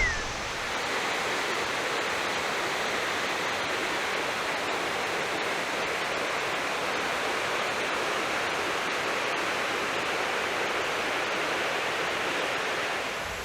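Victoria Falls on the Zambezi River roars as a steady, dense wall of rushing water, loud and unbroken throughout with no voices.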